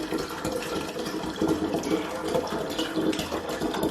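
Water pours steadily into a bottle while making coconut sugar wine, a continuous gurgling, splashing flow, close and fairly soft, with no talk.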